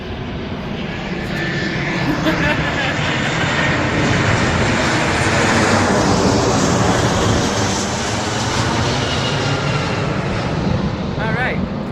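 A fixed-wing airplane roars steadily overhead, a loud, continuous broadband rumble that swells slightly midway and fills the whole stretch.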